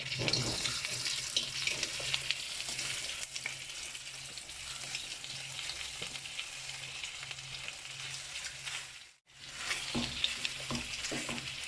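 Sausages frying in a chipotle sauce with a little milk, a steady bubbling sizzle with faint stirring scrapes throughout and a brief drop near the end before the frying resumes.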